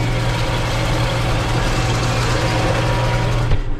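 A heavy tractor engine runs at 1800 rpm with the PTO at 500 while spreading lime in a field, a steady, loud, close drone with constant low rumble and no speech.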